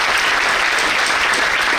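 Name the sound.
audience applause for a speaker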